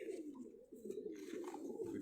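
Dab walay and Missay pigeons coo in Karachi, giving soft, throaty, rolling calls in a near, continuous sequence with slight rises and falls, and no one speaking.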